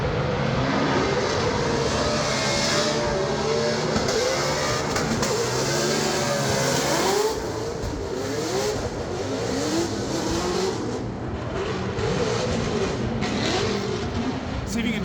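Drift cars on a Formula Drift run at Long Beach, engines roaring and revving hard with a loud, sustained howl that rises and falls, easing somewhat in intensity partway through.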